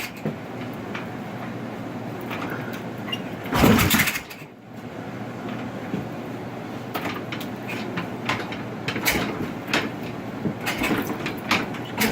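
A Yamaha XS650 hardtail bobber motorcycle is kick-started, with one loud, close mechanical thump and rush partway through against a steady low engine-bay rumble, then scattered clatter and clicks.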